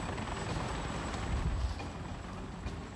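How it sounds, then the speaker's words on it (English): Helicopter in the video game Avatar: Frontiers of Pandora, a steady loud rotor drone with low rumbling thumps filling the whole moment, no voices over it. "Fucking helicopter."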